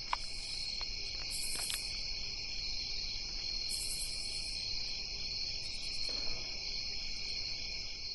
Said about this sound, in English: I lie listening to the petering bell of a cricket